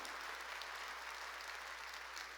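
A church congregation applauds during a Sunday worship service, a faint, even wash of clapping that sounds distant and holds steady throughout.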